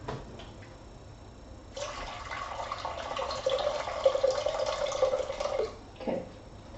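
Tap water runs into a cooking pot in a home kitchen, a steady splashing stream that starts abruptly, continues for about four seconds with rising pitch as the pot fills, then cuts off.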